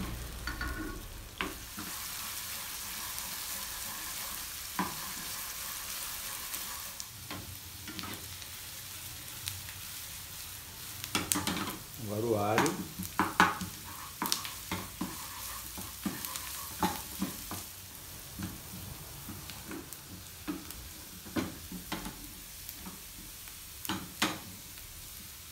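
Onion sautéing in a frying pan with garlic already browned, a continuous sizzle broken by scraping and clinking stirring strokes that bunch up in a busy stretch midway.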